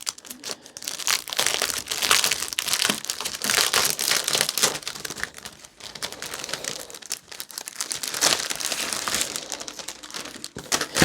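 A plastic grocery bag crinkling and rustling continuously up close, loud and busy with dense, irregular crackles and no speech.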